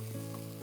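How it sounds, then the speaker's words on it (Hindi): Maharashtrian masala paste fries in oil as it is stirred, giving a short, steady close sizzle with no one speaking. "तो अब ये मैं मिक्स कर रही हूँ और हम इसे तब तक पकाएंगे जब तक इस पेस्ट में से थोड़ा सा तेल नहीं छूटने लगता"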